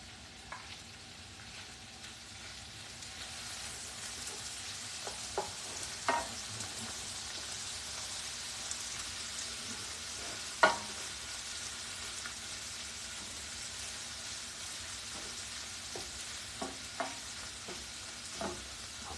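Shrimp and garlic fry in a pan with a steady close sizzle, broken by occasional sharper pops and light clinks, with no one talking.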